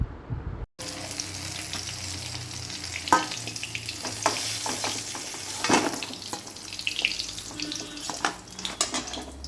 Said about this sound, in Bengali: এখন দেখো সবশেষে পটলটা ভাজছি